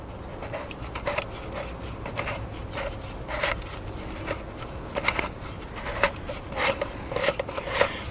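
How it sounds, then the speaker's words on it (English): A La Crosse weather station wind sensor being threaded into its bracket outdoors, a series of soft, close rubbing and scraping turns repeating irregularly over a faint steady background. "You just drop this right down into here, and that just screws right in."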